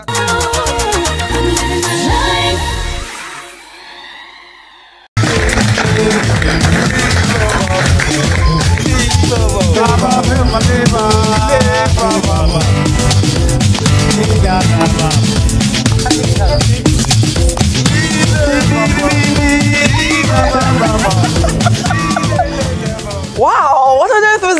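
Music plays loud and dense: an electronic dance track with steady beats and layered synths. A short quieter break near the start gives way to full-volume music, with no talking over it.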